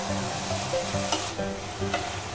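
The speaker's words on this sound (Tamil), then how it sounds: "இந்த வெஜிடபிள்ஸ் போட்டு ஒரு 2 to 3 minutes வந்து இது நல்லா சாட்டே பண்ணுங்க" Carrots, beans, cabbage and potato sizzle and fry in a pot while being stirred, a steady close crackle with scraping stir strokes.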